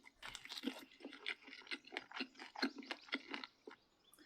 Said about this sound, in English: it definitely sounds like an actual person chewing